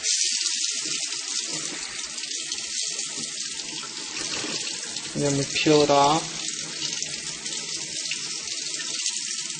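Cold tap water runs steadily with a bright hiss throughout as PCB material is quenched under it, and a person speaks briefly partway through.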